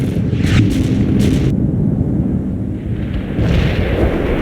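An artillery barrage in a war video game, heavy low rumbling booms rolling continuously, loud and close, with bright crackling bursts early on and no voices.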